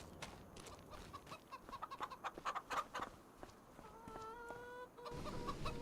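Chickens cluck in a Farming Simulator 25 coop, with a run of quick close clucks followed by a drawn-out call and a few softer clucks over a low farm ambience.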